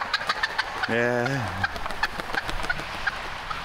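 Farmyard poultry including Toulouse and Emden geese and a wild turkey call close by, with one drawn-out honking gobble standing out over a busy scatter of clucks and chatter from the flock.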